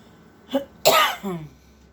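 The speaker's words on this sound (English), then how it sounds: "Excuse me for coughing and not covering my mouth." A short cough, then a louder, harsher cough that trails off, close and alone in a quiet room.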